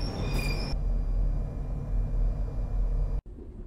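A commuter train rumbles along with a steady low roar and a brief high squeal near the start, then cuts off abruptly just before the end.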